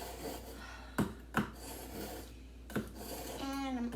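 A kitchen knife is drawn across a sharpener in a few quiet, separate scraping strokes with soft handling noises between them, close by in a quiet room, and a faint voice hums toward the end.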